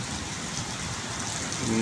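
Heavy rain pours down during a storm with a power outage, a loud, steady hiss of water with a low rumble underneath.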